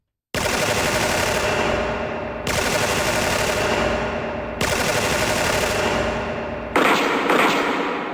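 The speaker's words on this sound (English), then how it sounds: "Thank you for those nice machine gun sounds" Machine gun fire from the DOS game Floor 13 roars in four long, loud, sustained bursts, each starting abruptly and running about two seconds, with no talking over it.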